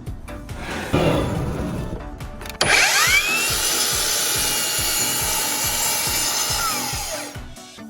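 A Hikoki C3610DRAW4Z 36 V cordless brushless miter saw spins up with a sharp rising whine, then cuts through wood in a steady, loud, close buzzing drone lasting several seconds before winding down.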